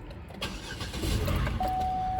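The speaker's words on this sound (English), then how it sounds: "Let's go ahead and start this up," A Buick engine cranks and catches, then settles into a steady idle, close and fairly loud, with a sustained electronic beep tone sounding near the end.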